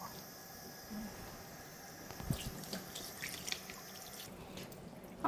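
A kitchen tap runs faintly while raw chicken is washed at home, giving a soft, steady water trickle with a few light splashes and drips.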